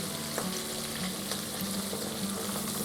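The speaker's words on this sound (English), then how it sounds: "Just cook for a little bit to get the most of the flavor of sausage." Sausage sizzles steadily in a hot pan for jambalaya, giving a continuous close frying hiss with a few soft clicks of stirring and no voices.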